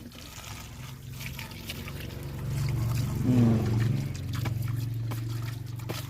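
Water splashing and trickling steadily as something with a motor is washed by hand, swelling louder midway, with voices talking in the background.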